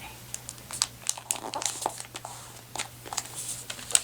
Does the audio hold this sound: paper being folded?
yes